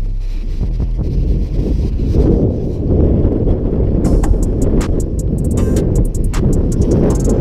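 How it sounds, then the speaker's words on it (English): Wind buffets a microphone outdoors during motorcycle stunt riding, producing a loud, continuous low rumbling roar throughout, with faint clicks and rattles near the end and no speech. "Some of these, the wind just be hitting me."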